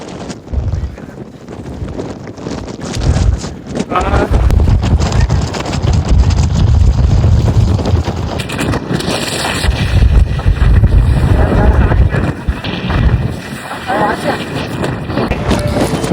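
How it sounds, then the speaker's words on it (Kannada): Strong wind buffeting the microphone at a hilltop viewpoint on a trek near Kemmannugundi, loud gusty roaring rumble throughout, with a person talking over it. "ಎಷ್ಟು ಗಾಳಿ ಅಂದ್ರ ನಾ ಮಾತಾಡೋ ಸುತ್ತಲೇ ಕೇಳಿಸಲ್ಲ, ಅಷ್ಟು ಗಾಳಿ ಫುಲ್ಲು"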